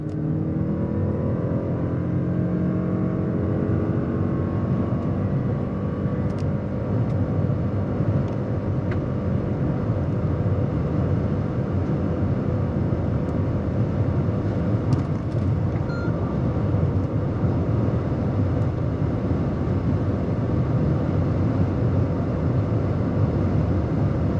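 A Lexus NX450h+ accelerating hard toward 200 km/h, a loud continuous engine and road roar with heavy wind noise that holds steady throughout, no voices.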